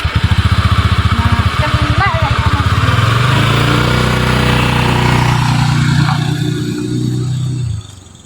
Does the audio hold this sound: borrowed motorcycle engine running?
yes